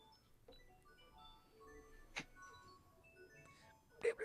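Faint, tinkling ice cream truck music plays with a few scattered melodic tones and clicks, quiet and distant, ending in a couple of louder knocks.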